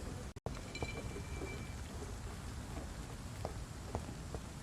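Steady rain falling in the video game Vampyr, a dense continuous hiss with a few faint drip-like ticks, moderately quiet and heard alone with no voices.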